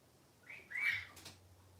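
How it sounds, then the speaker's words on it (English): A single short cockatoo whistle, a quick rising note followed by a brief higher tone, fairly clear against quiet background. "And he whistles so cute."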